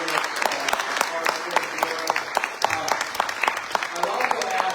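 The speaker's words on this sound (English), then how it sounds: "Let's give them one more round of applause for doing this hard" Audience applause for candidates at a Republican primary debate for Texas' 33rd Congressional District, dense steady clapping from a crowd filling the whole stretch with sharp individual claps standing out, at moderate level.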